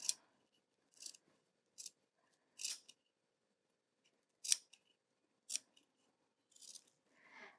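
Scissors snip through fabric as larger applique circles are trimmed close around their edges, about nine short crisp cuts spaced irregularly, close and fairly quiet with no talk.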